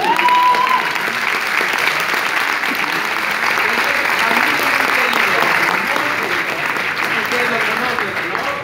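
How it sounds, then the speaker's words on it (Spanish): A generous audience at a birthday celebration breaks into steady, full applause that holds at an even level throughout, with a brief voice at the very start. "Un aplauso."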